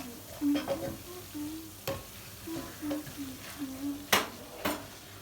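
Muhlama, corn flour cooking in plenty of butter, is stirred in a pan with a spoon that scrapes and taps at irregular moments over a soft sizzle.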